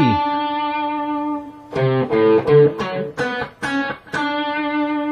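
Distorted lead electric guitar plays bar 22 of Bach's Cello Suite No. 1 Prelude: one long sustained note, then a quick run of about seven separate notes, loud and close with no voices.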